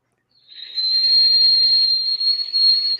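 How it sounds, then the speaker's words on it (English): A single sustained high-pitched whistled note from a person, clear and steady for about two and a half seconds with slight wavering near the end, alone without talk. "I'll try to show you how I can whistle."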